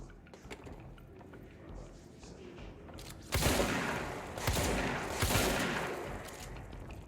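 Bursts of gunfire from the video game Control, several loud volleys starting partway through and recurring in clustered rolls over a low ambient background, with no talking.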